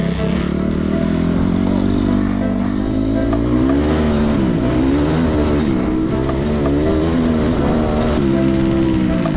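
Enduro motorbike engine ridden without using the clutch, loud and close throughout with steady revving that rises and dips, plus mechanical clatter.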